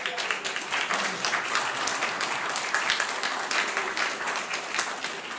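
Audience applause in a theatre, moderately loud with distinct individual claps rising and falling, no talk over it.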